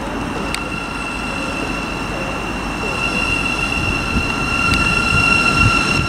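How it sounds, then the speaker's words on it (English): A Thameslink Class 700 electric train arrives at Stevenage station on the East Coast Main Line, its steady rumble of wheels on rail building gradually louder alongside a high electrical whine and a couple of sharp clicks. "the next train to arrive is going to be the 1103 Thameslink service, Govia Thameslink Railway service"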